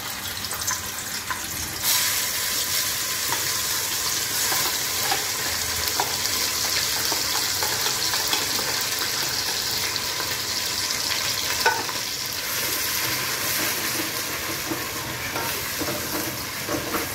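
A gravy of blended roasted onion and tomato sizzles and spatters in hot oil, stirred steadily with a ladle. The frying hiss runs loud and continuous throughout, with scraping stir sounds and no voices.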